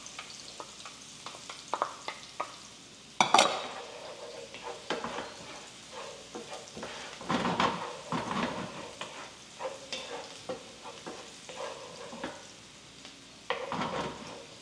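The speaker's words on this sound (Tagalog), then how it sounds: "So, meron tayong sibuyas. Then, sunod na rin natin yung bawang." Onion and garlic fry and sizzle softly in a pan, with frequent spatula stirring scrapes and occasional clinks against the cookware, fairly quiet and close.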